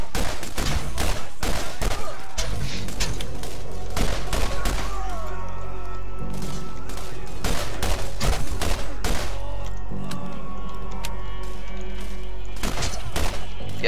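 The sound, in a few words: gunfire in the video game Borderlands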